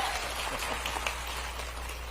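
Audience applause at a rally, a dense, steady patter of many hands clapping at moderate distance, even and unbroken for a couple of seconds.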